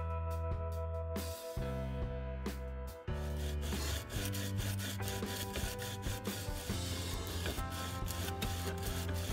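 Steel wood chisel blade rubbed back and forth on sandpaper, producing a steady run of rhythmic scraping strokes, close and fairly quiet, with no talking.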